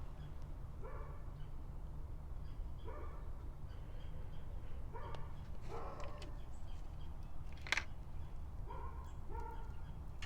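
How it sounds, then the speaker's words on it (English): Dogs bark repeatedly in short bursts a little way off, over a steady low background hum. "my neighbor's dogs are going off"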